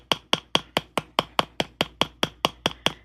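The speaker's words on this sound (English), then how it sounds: "You do not want to use metal when you're hammering your ear wires." A rubber mallet strikes earring ear wires in a quick, even series of about thirteen sharp taps, each a crisp close knock that decays fast.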